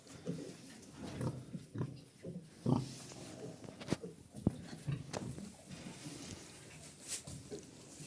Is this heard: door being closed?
no